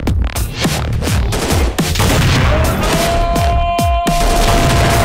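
Rapid sniper and gun shots ring out in a video game shootout, a close, loud string of sharp cracks with booming tails, fired in quick uneven bursts over a steady background din.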